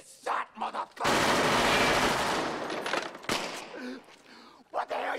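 Several loud gunshots ring out in a tense confrontation, one long dense burst of firing followed by a sharper report, with shouting voices in between.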